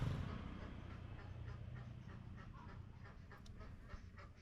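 Ducks quacking outdoors on a roadside in Bali, a steady scatter of faint, repeated calls over a constant low rumble of traffic or engine noise.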